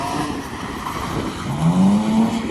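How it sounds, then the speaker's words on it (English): Two BMW E46 cars drift around a race track's drifting section, engines revving and rising in pitch in the middle distance, with tyre noise under a steady roar and no talking. "We've got two E46s absolutely chucking it in."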